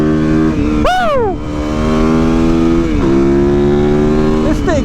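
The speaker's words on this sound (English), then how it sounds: "my single that's on my YZ 450FX, that's the most character in a bike that I've ridden" A Yamaha YZ450FX single-cylinder motorcycle engine revving close and loud, with a steady idling thump broken by a couple of sharp throttle blips that rise and fall in pitch.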